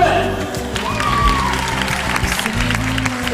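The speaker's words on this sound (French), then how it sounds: "Je vous demande d'applaudir Madame Espérance de Moulin." A live audience at a carnival show claps for Madame Espérance de Moulin, a steady, fairly loud wash of applause with some crowd noise throughout.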